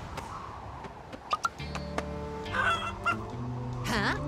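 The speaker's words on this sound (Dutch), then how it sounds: "Hoor ik die struik nou kakelen?" Cartoon chicken clucking in an animated children's show, a run of short clucks and squawks building into a longer bursting call, heard over background music and effects.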